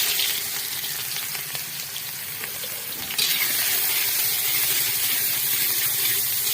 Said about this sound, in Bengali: পাঁচ ফোড়ন দেওয়ার পর পেঁয়াজ কুচি করে রেখেছি সেটা দিয়ে দিলাম।